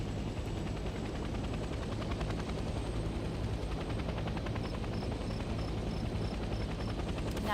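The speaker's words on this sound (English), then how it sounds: "The helicopter will now take off automatically and remain in a hover state." A military helicopter lifts off and settles into a hover in the Vietnam-era shooter Hell Let Loose Vietnam, its steady rotor and engine roar filling the scene at high volume with a dense, unbroken wash and faint intermittent beeps near the end.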